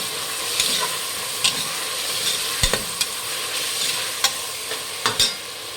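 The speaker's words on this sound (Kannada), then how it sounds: "ಇವಾಗ ಟೊಮೊಟೊ ಹಾಕ್ಕೊಳ್ಳಿ, ಚೆನ್ನಾಗಿ ಫ್ರೈ ಮಾಡಿ." Tomatoes frying in a pan for rice bath give a steady, close sizzle, broken by scattered sharp clicks and scrapes of stirring, with no talking.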